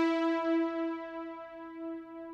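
A sustained synthesizer tone from the Thor synth's multi-oscillator patch in Reason, a bright, buzzy, harmonically rich note held steadily and alone with slightly wavering loudness.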